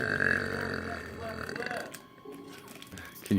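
A person burps during a Pokémon card pack opening, a rough, gurgling belch against background chatter.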